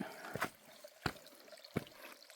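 Water trickles at a running trail water source on the Appalachian Trail, heard as faint, intermittent splashes and drips spaced roughly half a second apart, with no talking.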